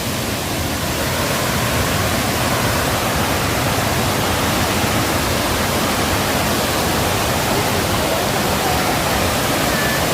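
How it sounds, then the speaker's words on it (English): A waterfall near a Kenyan village pours in a loud, unbroken roar of white-noise rush that fills the whole span evenly with no pauses and no voices over it. "This is a waterfall, guys."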